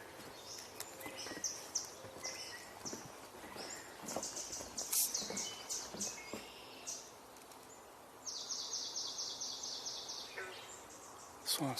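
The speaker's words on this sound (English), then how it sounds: "I heard an American goldfinch." An American goldfinch calls among distant birdsong and buzzing insects in open marsh country, faint high chirps scattered over a soft background chorus, with a longer steady high trill toward the end.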